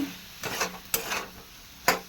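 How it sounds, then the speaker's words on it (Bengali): A spatula scrapes and stirs taro stolons into a fried spice paste in a wok, three distinct sweeping strokes with light sizzling between them, close up, no speech. "এবার মশলাটার মধ্যে দিয়ে দিলাম লতিটা।"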